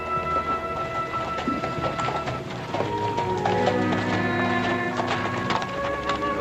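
Hooves clip-clop steadily on the ground, growing closer amid a busy, continuous background of music and ambient noise.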